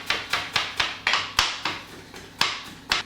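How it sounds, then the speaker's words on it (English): Garlic being smashed and finely chopped with a knife on a cutting board during kitchen prep, giving about a dozen sharp, evenly spaced knocks close by with no talking. "I'm just gonna smash the garlic and cut it finely"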